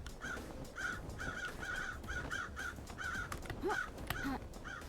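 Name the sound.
crows cawing in the video game Paradise Killer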